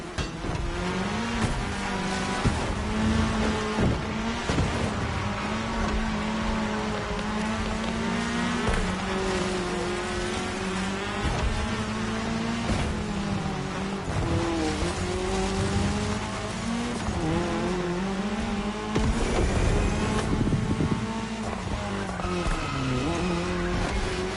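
Race cars in GTA drive on tarmac during a cross-terrain race, their engines holding a steady, continuous droning whine with rising and falling pitch and occasional tire squeal, without any talk.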